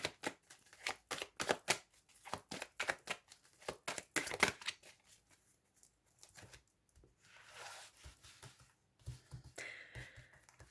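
Tarot cards shuffled for a reading, a rapid run of crisp riffling snaps followed by softer sliding and patting of the deck, close and alone.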